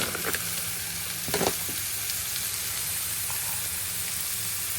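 Marinated food fries in a pan with a loud, close, continuous sizzle and crackle, a few sharper spattering bursts near the start, and no voice over it.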